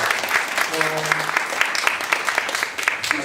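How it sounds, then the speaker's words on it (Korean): Loud, dense applause from an audience at a talk-show event, many hands clapping continuously for a few seconds, with a brief voice heard early on. "여러분 힘찬 박수로 응원의 박수로 한번 부탁드립니다"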